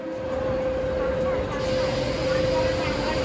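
Steady rumbling of a Mumbai local train with a constant tonal whine and hiss, continuous and close throughout.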